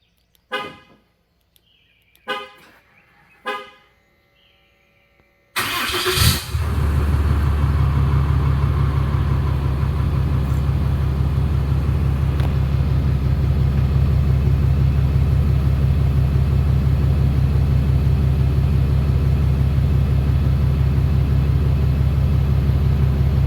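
A few short clicks and cranking bursts, then the 6.7L Cummins diesel engine of a 2020 Ram 2500 pickup with a Magnaflow filter-back exhaust catches and settles into a loud, steady low rumbling idle that continues to the end.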